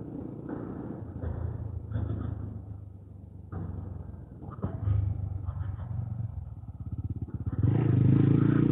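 A motorcycle with softened front and rear suspension rides along a road, its engine rumbling close and loud and rising and falling in bursts as the throttle changes, then swelling near the end.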